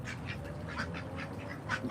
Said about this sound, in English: I'm feeding ducks